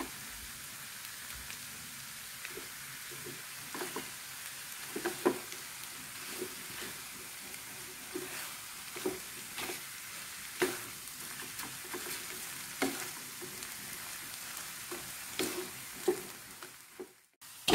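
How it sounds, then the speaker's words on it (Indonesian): Chicken pieces fry in a wok of cooked spice paste for Balinese ayam betutu, a soft continuous sizzle broken by repeated scraping stirs of a spatula, close by with no talking. "Kita aduk-aduk ayamnya sampai ayamnya berubah warna sekitar 4 menit"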